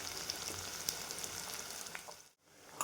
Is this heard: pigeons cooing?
no